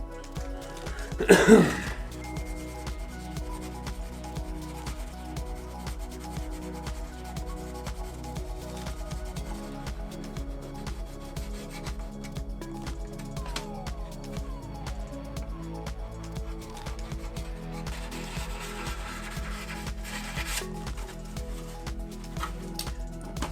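Steady, rhythmic rasping strokes of sanding a plastic 1/10-scale RC car body continue throughout, with a brief loud throat-clearing near the start.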